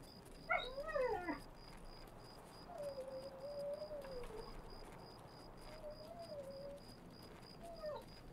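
Dogs whimpering: a faint, high whine rises and falls early on, then several thin, drawn-out whimpers follow at intervals, quiet and somewhat distant over a low background hiss with a steady faint beeping tone.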